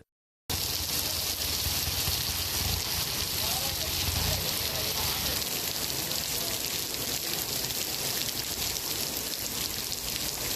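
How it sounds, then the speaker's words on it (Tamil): Heavy rain pouring down over roads during a monsoon downpour, a dense, steady hiss and patter that fills the scene continuously at high volume. "கனமழையால் சாலைகளில் வெள்ளம் பெருக்கெடுத்தது"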